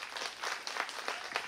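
Small audience applause at Tiehua Village music venue during an album tour show, a brief patch of scattered clapping at moderate distance, fairly soft.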